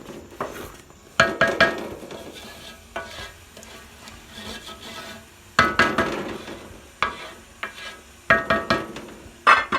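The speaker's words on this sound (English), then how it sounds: "We're about 15 minutes into the frying, so I'll allow this to completely have all the moisture out" Mincemeat shito, a Ghanaian chili condiment, frying in a pot as its moisture cooks off, with bursts of spoon stirring and scraping against the pot over a low, continuous sizzle.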